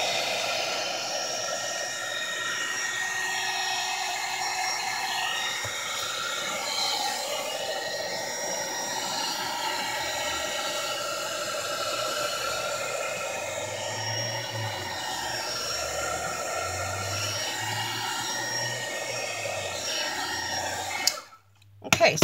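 A hair dryer blows steadily to dry freshly written lettering on a board. It gives a continuous loud whooshing hum that runs for about twenty seconds before cutting off abruptly near the end.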